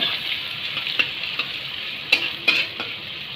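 Onions fry in a pan with a steady close sizzle, broken by a few sharp clicks and scrapes of a spoon stirring them over a short stretch.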